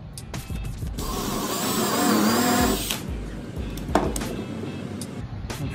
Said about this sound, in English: We'll try a new 1 5/8 inch screw into our pre-drill.